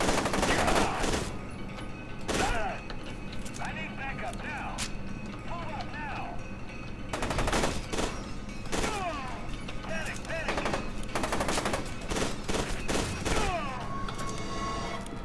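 Bursts of machine gun fire in the shooter game F.E.A.R. 2, repeated rapid volleys mixed with other game sounds over a dense, loud background throughout.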